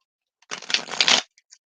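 Tarot cards shuffled by hand in one quick riffling burst of dense papery flicks lasting under a second, followed by a couple of faint soft taps, with no talking.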